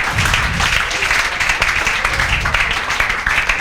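Classroom applause for first-rank student Ayush Guha, a continuous wash of many hands clapping, steady and fairly loud for a few seconds.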